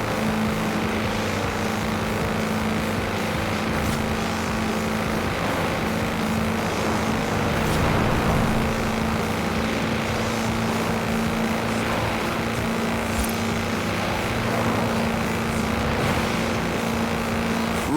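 Tractor on 4-inch mud tyres driven flat out in Forza Horizon 4, its engine a steady, loud droning roar that holds without a break for the whole stretch.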